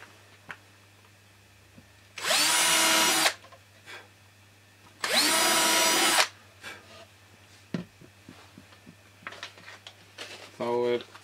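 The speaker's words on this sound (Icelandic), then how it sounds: "en það þarf líklega að bora þá fasta." A power drill bores into plywood while a model stand is being built, running in two loud whirring bursts of about a second each, followed by softer tool clatter and handling knocks nearby.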